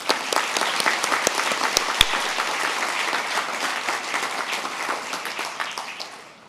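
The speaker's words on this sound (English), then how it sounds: "a big round of applause" A graduation ceremony audience in Singapore gives a steady, full round of applause, dense clapping that holds and then gradually fades out toward the end.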